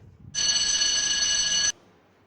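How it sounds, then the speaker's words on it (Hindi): A telephone bell rings steadily for over a second in one continuous burst, bright and metallic, then cuts off abruptly, leaving quiet. "तभी टेलीफोन की घंटी एक बार फिर बज उठी।"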